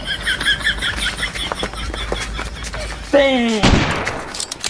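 A rapid rattle of gunfire crackles in quick bursts, then a loud voice cries out near the end.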